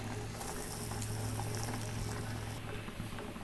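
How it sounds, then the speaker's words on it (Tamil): Pot of fenugreek water on a rolling boil, steady bubbling and simmering throughout, close and continuous with no talking. "இன்னும் 2 நிமிஷம் நல்லா கொதிச்சதுன்னா உங்களுக்கு இந்த வெந்தய தண்ணி வந்து ரெடி ஆயிடும்"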